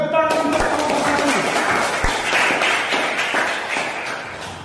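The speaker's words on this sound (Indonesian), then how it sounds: "Tepuk tangan untuk kelompok" A school class in an Indonesian economics lesson claps for a group, dense steady applause after a brief spoken moment, fading slightly toward the end.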